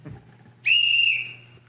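A single sharp referee-style whistle blast, loud and close, held for about half a second at a contest start at a trade expo, then fading with a steady low hum beneath.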